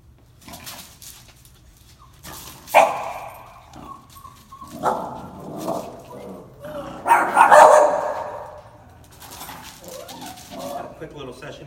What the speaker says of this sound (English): As soon as he saw my dogs, he became, as you saw, lightly reactive.